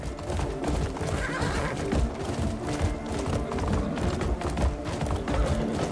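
Horse in the Crimson Desert video game, neighing over a constant busy clatter of hooves as it rides along, loud and dense throughout.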